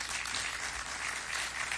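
Audience applause welcoming a speaker at a sports anti-doping talk, a dense, sustained roar of many clapping hands, steady and full throughout with no voices over it.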